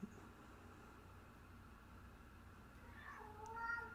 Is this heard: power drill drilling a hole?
no